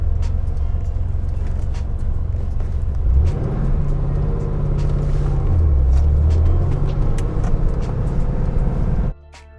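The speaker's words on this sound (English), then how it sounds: "There's noises coming from this car, which I cannot identify." A Porsche 964 drives along with a loud, continuous low engine and road rumble, a few faint knocks and rattles riding on top, and a shifting drone midway before the noise cuts off abruptly near the end.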